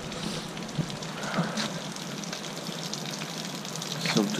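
A small waterfall spilling beneath an old stone bridge gives a steady, close hiss of rushing water, broad and continuous, with a few faint voices briefly surfacing beneath it.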